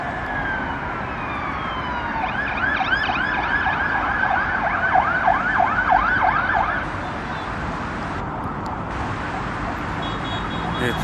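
Ambulance and fire engine sirens wail, rising and falling repeatedly over steady traffic rumble in Taksim, Istanbul, responding to a hospital fire, growing louder mid-clip before fading back into the background noise.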